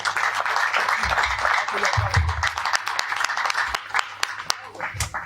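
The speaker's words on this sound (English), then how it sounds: "I want everyone to clap for this clinic." A crowd at a ministry gathering at a health center claps loudly and steadily, with scattered sharp claps and low voices murmuring underneath.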